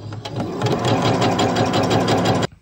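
A sewing machine fitted with an edge-guide presser foot stitches steadily and fast, its rapid mechanical whir running loud and close for about two and a half seconds before stopping abruptly.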